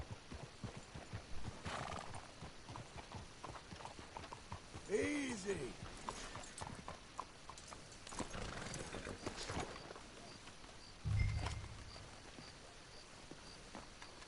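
Horse hooves clip-clop steadily in a Red Dead Redemption 2 game scene, with a horse whinnying partway through and someone speaking briefly over the hoofbeats.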